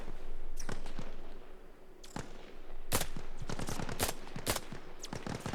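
Bursts of automatic and single gunfire in the military shooter Arma Reforger, several sharp cracks and rattling volleys at mid distance over a steady ambient rumble, no talk.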